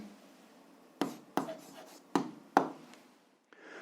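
A pen writes on paper during an algebra lesson, four firm taps spaced about half a second apart, each trailing into a brief scratchy stroke, then quiet. Nobody speaks.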